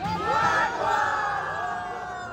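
A crowd cheers and shouts to welcome Gloria Macapagal Arroyo, Pampanga's 2nd District Representative, a swelling mass of voices and whoops at moderate distance, with little distinct clapping.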